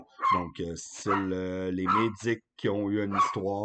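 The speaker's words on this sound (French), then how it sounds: "excusez, c'est mon chien" A pet dog gives short yips and barks at close range, mixed in with and partly masked by a person talking steadily in French indoors.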